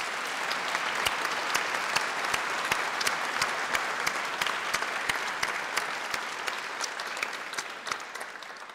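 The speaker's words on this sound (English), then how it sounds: "give them a round of applause for enabling you graduates to be here" Steady audience applause fills a graduation ceremony hall, dense clapping from many hands sustained evenly throughout with a few sharper nearby claps standing out.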